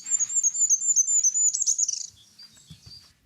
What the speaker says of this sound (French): Roite la huppée.